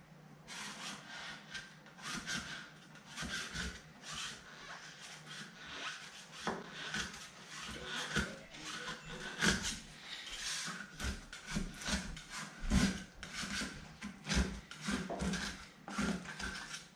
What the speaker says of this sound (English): now we'll just go at this wax here at an angle